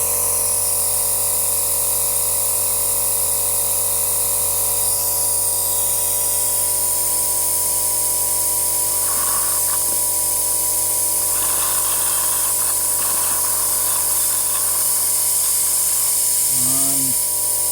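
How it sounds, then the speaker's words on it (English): An air compressor drones loud and steady while brake fluid is sucked out during a Ford Falcon FG brake service. There is a faint hiss, and brief clinks come near the end. "I'll probably put my compressor on as well, but that's okay. The noisy thing."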